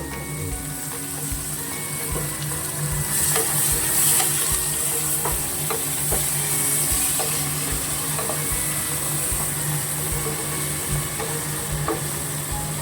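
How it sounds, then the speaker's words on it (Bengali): Onions fry in a pan for mutton biryani, a steady close sizzle with scattered stirring clicks and scrapes running throughout, no talking. "সব পেঁয়াজটা দিয়ে দিচ্ছি সব পেঁয়াজটা দিয়ে ভালো করে ভাজব"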